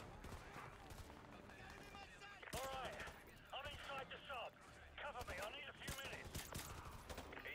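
Gunfire in the Modern Warfare 2 Remastered campaign, snowy level, with several bursts of shots layered with game noise and some speech underneath, moderately loud.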